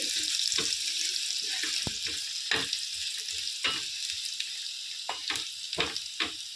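Garlic sizzles and fries in hot oil until reddish for North Karnataka-style raw mango pickle, a steady close crackle broken by sharp stirring clatters and scrapes against the pan.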